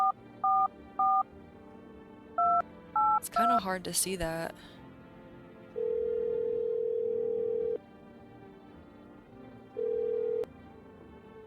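Telephone keypad tones from the No, I'm Not A Human video game: several short paired beeps in quick bursts, then a steady ringing tone, with a voice speaking briefly in the middle.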